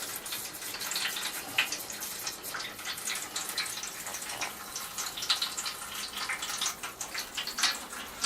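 Water rushing steadily through an opened valve in cottage plumbing during winterizing, a continuous hissing gush with small splashy fluctuations, close and alone.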